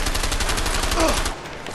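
Rapid gunshots in A Way Out, a fast regular string of sharp cracks for over a second before stopping abruptly, loud and close.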